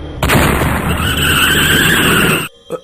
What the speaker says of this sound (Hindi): तभी उनकी गाड़ी का टायर फट जाता है।